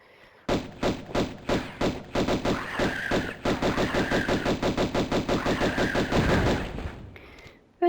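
Rapid automatic gunfire in the Tomb Raider video game, loud repeated bursts of shots in fast rhythm, with brief pauses between volleys and a short quiet tail at the end.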